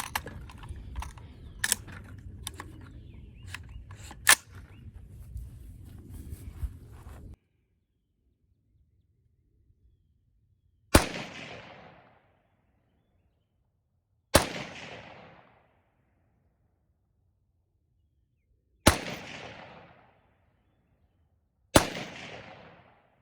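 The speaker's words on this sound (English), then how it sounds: "I've got 5 rounds. I'm sending them down to the target at 100 yards." Five 6.8 SPC rifle shots with cast bullets fired one at a time at a 100-yard target, each a sharp crack with a short decaying tail, widely spaced in quiet, after a stretch of clicking handling noise.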